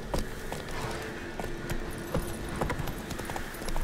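Geralt's horse Roach in The Witcher 3 clip-clops steadily along, with rhythmic, moderately close hoofbeats over a soft ambient game background.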